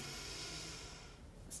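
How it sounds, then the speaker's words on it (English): A slow, soft inhalation through the nose, close and quiet, as part of a guided rib cage expanding breathing exercise. "And breathing in,"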